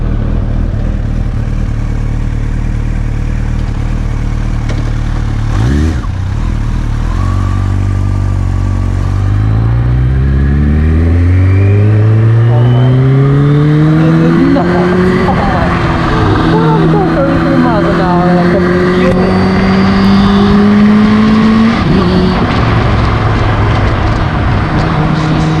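Kawasaki Ninja H2 motorcycle on a ride, its engine revving up through gears in rising, falling sweeps with gear changes, loud and close under wind noise while a rider talks over it.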